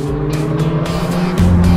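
A Ferrari once owned by Michael Schumacher drives on a public road, its engine droning loud and close with a steady pitch, stepping up into a deeper, stronger tone near the end, with no talking.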